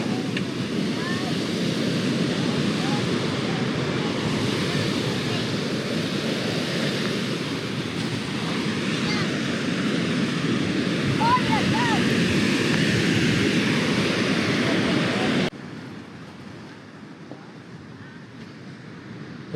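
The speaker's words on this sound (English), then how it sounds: "Tiny little waves, 1 to 2 feet." Small waves of one to two feet break on La Lancha Beach at Punta de Mita, Mexico. A continuous, fairly loud surf roar is mixed with wind buffeting the microphone. The level drops abruptly near the end.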